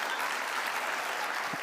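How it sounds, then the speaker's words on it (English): Audience applause at a women's summit, a steady wash of clapping across the whole short stretch at moderate, slightly distant loudness, with no talking over it. "feel free to clap at me"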